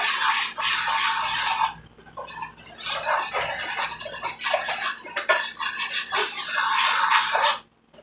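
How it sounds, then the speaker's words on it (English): Spoon stirring banana bread batter with shredded coconut and caramel in a bowl, close scraping and rubbing strokes in uneven bursts, with short pauses between, and no talk. "I'll stir this together for a minute."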